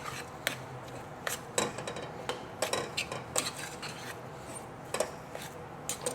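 Salt cod fritter mixture with chopped herbs and black pepper is stirred by hand in a bowl, giving irregular soft scrapes and clinks of a utensil against the dish, fairly quiet with no talking.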